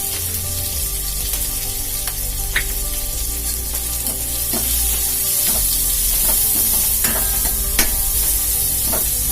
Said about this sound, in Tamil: இந்த சாம்பாருக்கு தேவையான உப்பு நம்ம வெங்காயத்துல போட்டுக்கலாம். வெங்காயம் சீக்கிரம் வதங்கும்.